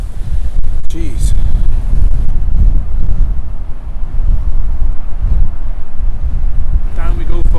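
Strong wind buffets the microphone on a cold sea coast, with deep, rumbling surf from massive waves underneath. The roar is loud and continuous, and a voice is briefly heard.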